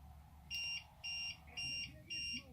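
A UPS battery backup beeps during a power outage, giving four evenly spaced electronic tones over a low background hum.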